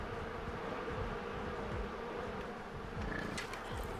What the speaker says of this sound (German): Ja, jetzt greifen sie mich wirklich an, die Bienen.